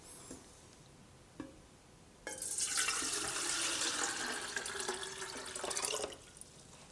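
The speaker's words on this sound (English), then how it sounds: "So first add filtered water." Filtered water pours steadily into the pot of a steam distiller for a yarrow hydrosol, a bright, close splashing stream that starts after a few faint drips and runs for several seconds before stopping.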